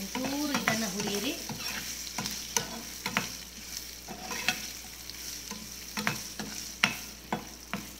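Dry red chillies fry in hot oil for a pumpkin dish, under a steady close sizzle broken by sharp, irregular scrapes and clicks of a stirring spoon against the pan.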